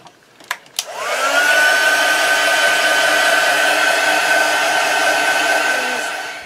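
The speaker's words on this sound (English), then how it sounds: "I'm just going to put on my heat gun for a minute and let's just dry off them that we've done up to now" A heat gun blows steadily over painted pages of a steampunk travel junk journal, switching on after a couple of soft knocks and holding a loud, even whooshing whine with a faint rising tone until it cuts off.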